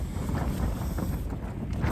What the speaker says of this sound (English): Wind's picking up, and the wind's shifting slightly.